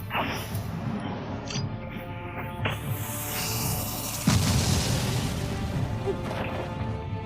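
Several dull paper bomb crashes and booms sound through a busy Boruto anime action scene, with one sharp impact standing out near the middle among rumbling blasts.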